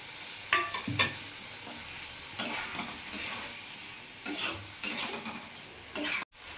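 Spiced water poured into a pan of ol (elephant foot yam) and rohu fish curry, giving a steady hiss with several sharp sizzle bursts and a few stirring scrapes, close up.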